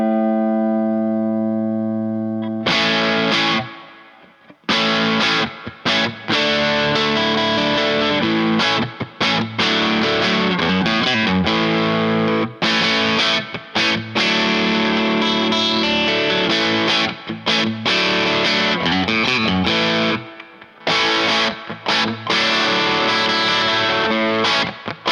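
Electric guitar, a Sire Larry Carlton T-style Telecaster, played through an overdrive distortion pedal with the gain turned up, strumming dense crunchy chords and riffs loudly with brief pauses, after a short clean sustained note at the start.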